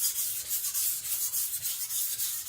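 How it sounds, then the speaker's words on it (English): An IKEA Chinese cleaver sharpened on a whetstone, soft even scraping strokes in a steady repeating rhythm, close but fairly quiet, with no talk. "Letting the stone do the work. You shouldn't be tiring out when sharpening."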